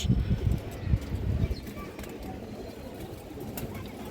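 Pigeons, including black checker birds, cooing softly in a loft, low throaty coos layered under someone talking nearby, with faint clatter in the background.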